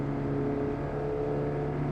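Racing car engines from the AMS 2 sim, with cars including the VW Polo and Virtus, make a close, continuous whirring drone that holds steady throughout, and no talk can be heard.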